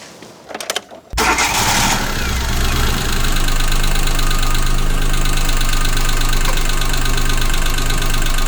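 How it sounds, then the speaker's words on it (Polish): A car engine starts and settles into a steady idle, with a fast, even valve ticking running through the rumble. "silnik realnie zaczął ciszej chodzić do tego stopnia, że teraz słychać jak zawór w nim stuka"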